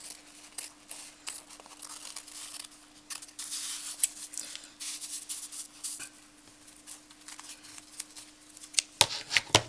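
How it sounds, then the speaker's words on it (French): Small scissors snip around a paper circle for a small hat craft, producing a run of close, crisp cuts and crinkles in uneven bursts, with light paper handling in between and no voices. "Prendre des petits ciseaux parce qu'avec les gros, c'est rempli de colle."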